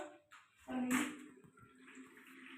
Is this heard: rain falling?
no